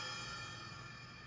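Crash cymbal from a VR drum kit, heard as a faint, steady metallic shimmer that decays slowly across the short moment, alone with no voices.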